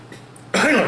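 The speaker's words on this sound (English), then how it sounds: "bit of a cough there" A single sharp cough, close and fairly loud, after a moment of near silence.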